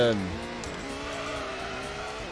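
A racing car engine in the video game Gran Turismo 1 whines steadily at high revs after a brief rising shift, continuous and fairly loud, with a voice talking over it.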